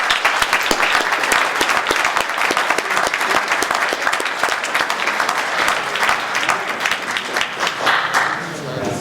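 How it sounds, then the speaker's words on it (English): Loud, dense applause from an audience at a meeting, many hands clapping steadily and close for about nine seconds without a pause. "I'd just like to give both departments a round of applause."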